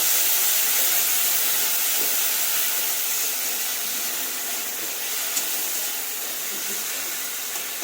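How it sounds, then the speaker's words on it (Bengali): Tomatoes dropped into hot oil tempering for a Bengali mixed-vegetable dal give a steady, loud broadband sizzle and hiss that holds evenly throughout, with no voices over it. "এবার দিচ্ছে এই টমেটোগুলো ওই ফোড়নের মধ্যে টমেটোগুলো দিয়ে দিল"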